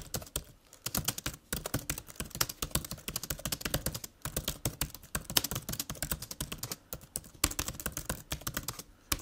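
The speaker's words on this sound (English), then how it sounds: "Here is a quick type test so that you can make up your own opinion." Typing on a 2015 MacBook Pro laptop keyboard, a quick, continuous patter of soft, close key clicks with brief pauses, fairly quiet and heard alone.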